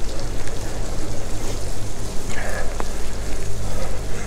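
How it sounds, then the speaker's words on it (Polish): Steady broadband rain pattering on a surface outdoors during a downpour, continuous and fairly loud, with a low rumble underneath. "Zaczyna padać."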